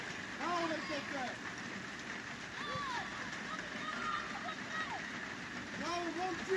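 Rain falls steadily on a sports field during a football match, a constant hiss under shouting players and coaches calling out across the pitch, with faint whistles in the background.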